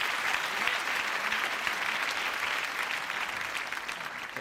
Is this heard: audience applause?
yes